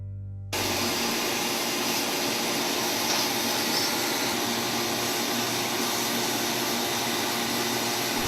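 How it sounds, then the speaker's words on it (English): A sandblaster roars on after a brief lull, a steady loud hiss of blasting grit cleaning a car brake pad assembly and shims that holds unbroken to the end. "the best way is to use a sandblaster, which we will do here"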